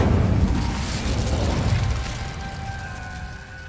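An Incendio fire spell cast in Hogwarts Legacy lands as a loud, booming whoosh of flame that starts at full force and slowly fades over a few seconds into a thin lingering hiss.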